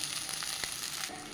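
Vegetarian fried rice sizzling in a pan while being stirred, a short burst of steady hiss with a faint scrape or two, no voices.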